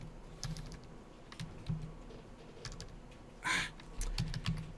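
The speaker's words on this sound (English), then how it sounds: "not typing very well here" Quick, irregular clicks of fingers typing on a computer keyboard, close by, with brief pauses and one louder burst of noise midway.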